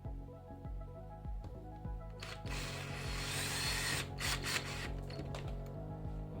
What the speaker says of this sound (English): drill in your nipple screws